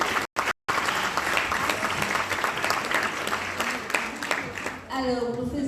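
A crowd applauds at a Cameroonian chiefdoms parade and fashion show in Paris: dense, steady clapping that fills the room, broken by two brief dropouts near the start, before a voice begins speaking at the end.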